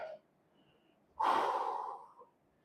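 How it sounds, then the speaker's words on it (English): After a workout set, a single heavy, rasping exhale bursts out close to the microphone and trails off, following a brief quieter breath and near silence. "But I love the hard breathing. Hard breathing is great."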